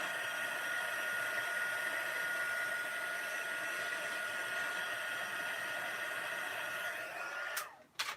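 A heat embossing tool blows hot air over a stamped card, a loud steady whooshing drone close by, cutting off near the end with a couple of clicks.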